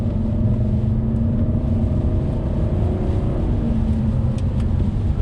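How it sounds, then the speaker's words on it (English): A 2-tonne P3 Volvo S80 with the D5 diesel engine pulls at half throttle on a drive, giving a deep, steady, throaty drone with a low rumble under road and wind noise, constant and loud throughout. "This half throttle, it just sounds awesome,"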